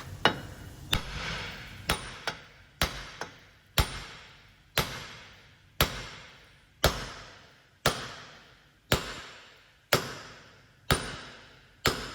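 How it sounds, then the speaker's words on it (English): A hammer knocks on the front brake parts of a Ford Transit Custom during a disc and pad replacement, about fourteen sharp metallic blows at a steady, unhurried pace, close and clear with no talk. "We'll just give it a bit of a knock and see how it moves."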